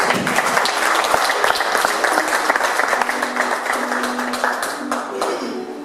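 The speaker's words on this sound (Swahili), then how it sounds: "Asante, tupige makofi sana" Congregation applause fills a church service, a dense, sustained clapping from many hands, loud and close, holding steady with a faint murmur of voices beneath it.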